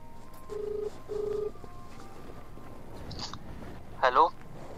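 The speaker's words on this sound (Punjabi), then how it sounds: "ਫੋਨ ਨਾ ਲਾਵਾਂ ਰਾਜਵੀਰ ਨੂੰ।" A telephone gives a few short beeps as a number is dialed indoors, followed by a brief clatter of handling, with only faint background sound.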